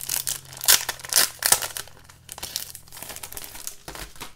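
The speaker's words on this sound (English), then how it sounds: "I have some Minnie and Mickey plastic envelopes. Let's go ahead and open those." Minnie and Mickey Mouse plastic envelopes crinkle and crumple as they are opened, with several loud bursts of crackling plastic early on that settle into softer rustling toward the end.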